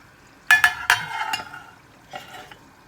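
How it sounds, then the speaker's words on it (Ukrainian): A lid goes onto a pot of borscht with a few sharp metallic clanks and a brief rattle, followed by softer knocks of cookware in a quiet kitchen. "І це все накриваємо кришкою."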